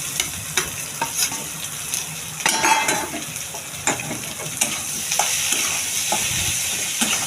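Boiled potato mashed and stirred with spices, turmeric, salt, ginger-garlic paste, cumin and mustard seeds in a pan, with steady sizzling and repeated scraping strokes of a spoon against the metal.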